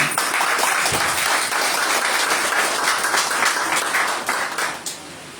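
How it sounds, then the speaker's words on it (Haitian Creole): An audience at a wedding ceremony bursts into sustained applause to welcome a speaker, a dense, lively clatter of many hands that holds steady before tapering off near the end. "s'il vous plaît, applaudir, accueillir avec un grand applaudissement"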